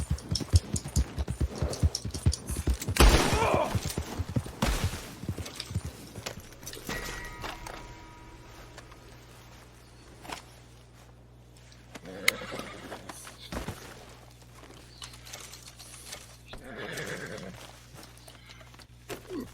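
Horse in the video game Red Dead Redemption 2, with a burst of rapid hoof clip-clops early on, then quieter hoofbeats and a whinny later, mixed with game sounds and occasional speech.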